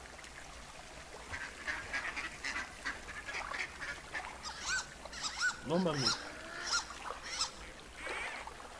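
A duck in the video game Firewatch quacks in a series of nasal calls that get louder and closer toward the middle, and someone speaks briefly alongside.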